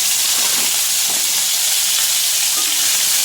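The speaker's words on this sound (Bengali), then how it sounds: "মাছগুলো ভেজে নিই।" Tangra fish fry in a pan, giving a loud, dense, unbroken hiss of sizzling oil heard up close with no voices.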